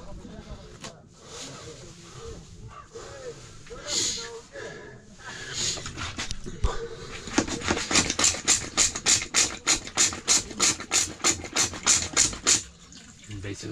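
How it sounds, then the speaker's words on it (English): A hand pump on a portable chemical-flush toilet on Kilimanjaro being worked, giving a quick run of rhythmic squirting, squeaking strokes in the second half after quieter handling noises. "you take this handle and you pump it, and water comes out"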